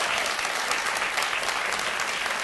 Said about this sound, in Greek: Το βρήκε ένα χειροκρότημα.